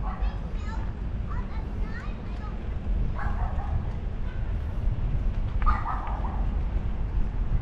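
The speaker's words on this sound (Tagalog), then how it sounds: "Yun, may aso." A dog barks in short bursts near a park, several yips and woofs set against steady low rumble and children's voices, with people talking nearby.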